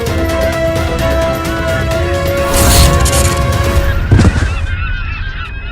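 A flock of geese or fowl honking loudly and continuously, with a sharp crash-like burst near the end and layered tonal sound underneath, in a dramatic television scene.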